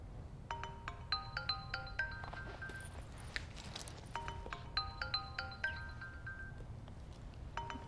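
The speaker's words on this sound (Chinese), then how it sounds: "我去接个电话。" A melodic phone ringtone plays twice in an indoor drama scene, a bright repeating electronic tune over a low room hum, with a short pause between the two rounds and no talking.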